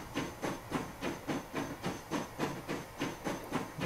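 Steady rhythmic clatter of a passenger train pulling into a platform in the transport-management game Transport Fever, with repeating wheel-over-joint beats about twice a second under a broad hiss, moderately loud and unaccompanied.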